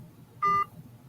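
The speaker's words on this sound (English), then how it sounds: "The phone hung up." An electronic beep from a phone line as a call drops, a single steady tone lasting about a fifth of a second, clear and moderately loud over faint room hum.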